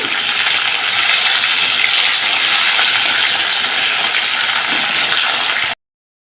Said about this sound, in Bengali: এরকমভাবেই আমি এক এক করে ইলিশ মাছগুলো ভেজে নেব